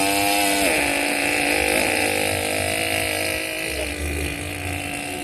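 A voice imitating a chainsaw, a steady buzzing drone held for about five seconds, close and alone with no other talk.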